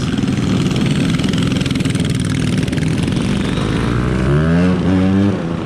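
Several scooter and motorbike engines idle together on a street in Watts, California, a loud steady mechanical drone close by, with a revving engine rising and falling near the end.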